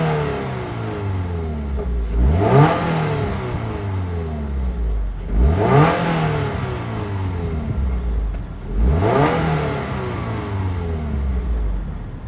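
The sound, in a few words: 2024 Toyota GR86 2.4 L flat-four engine revving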